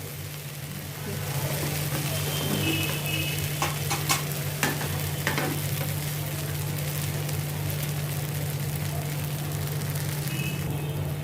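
A flipped snack fries in a pan, giving a steady, close sizzle with a low hum beneath and a few sharp crackles and pops scattered through the middle, with no talking.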